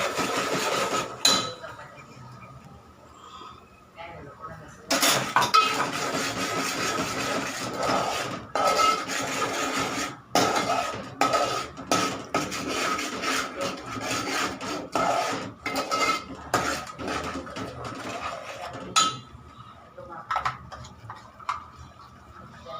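Roasted onion and coconut paste being sautéed in a pan for a traditional village curry, giving a steady, close rasping sizzle and scraping with irregular stirring knocks, no talk.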